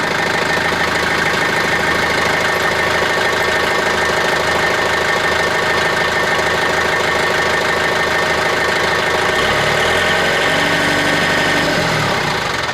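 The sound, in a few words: John Deere 110 TLB engine running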